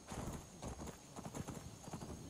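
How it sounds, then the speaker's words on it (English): Horse hooves gallop in Skyrim, a fast, loud, continuous clip-clop rhythm of many hoofbeats close by, with no voices. "Thank goodness for the horse."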